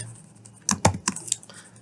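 Several keystrokes on a computer keyboard while Python code is typed, a quick cluster of clicks in the middle with quiet gaps around them, close and fairly faint, without any talking.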